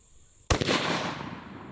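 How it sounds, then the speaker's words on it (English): A single sharp rifle shot from a 6.5 Creedmoor loaded with Hornady Precision Hunter 143 grain ELD-X ammunition cracks out loud and close after a brief quiet moment, then rings and decays in a long broad tail. "Okay, first shot of the day, here we go."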